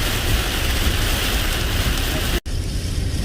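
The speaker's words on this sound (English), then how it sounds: "It's like a ton of rain we're about to drive into." Heavy rain pounds on a Tesla driving through a downpour, a dense, loud, continuous hiss and patter that drops out for an instant and then resumes slightly softer.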